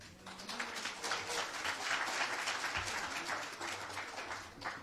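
A crowd claps steadily for several seconds, a dense wash of applause at moderate distance with no voices on top.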